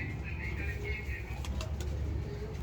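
Pigeons coo softly in a loft, the low murmuring steady and close beneath faint background chatter and a few brief rustles.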